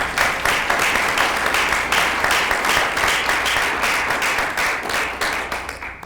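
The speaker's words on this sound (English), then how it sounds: "Let's give her a round of applause." Loud, sustained audience applause at a Rowan County Commissioners candidate forum, dense rapid clapping that holds steady throughout with no voices over it.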